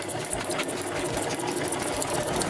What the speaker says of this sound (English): an example on how you can practice with your sewing machine to make some straight lines